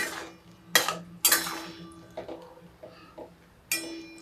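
A spoon clanks and scrapes against a pan while a vegetable curry is stirred, giving a few sharp metallic strikes and softer scrapes spaced irregularly, close and otherwise quiet.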